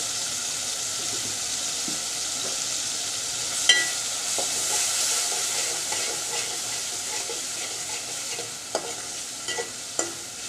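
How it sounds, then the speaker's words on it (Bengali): Shrimp frying in oil with onion and garlic, a continuous close sizzle with occasional spatula scrapes and faint clinks, no talking. "তেলের মধ্যে পেঁয়াজ রসুনের সাথে চিংড়ি মাছটা একটু ভেজে নিচ্ছি"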